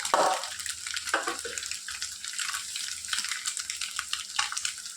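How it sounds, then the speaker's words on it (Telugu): Onions and curry leaves frying with eggs in a pan, a steady broad hiss running the whole time with a few sharper spits near the start, close and fairly loud, no voices. "ఆనియన్స్ కలర్ చేంజ్ అయ్యేంత వరకు, బ్రౌన్ కలర్లో వచ్చేంత వరకు బాగా ఫ్రై చేసుకోవాలి"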